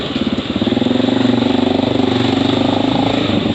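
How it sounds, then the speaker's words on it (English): Honda XR650L motorcycle running with its exhaust silencer tip removed and the muffler packing gone, giving a loud, close, rapid hollow rattly thumping idle that pulses steadily throughout with no speech. "the can is just like making a very hollow, rattly sound because there's no more packing in it"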